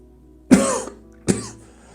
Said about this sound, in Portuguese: peço desculpa se eu tossi algumas vezes